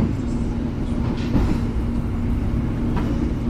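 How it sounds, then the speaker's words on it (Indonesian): A passenger train departing Cirebon Prujakan station rumbles steadily with a low engine hum, fairly close, with faint voices in the background. "kereta api Menoreh sudah berangkat dari stasiun Cirebon Perujakan"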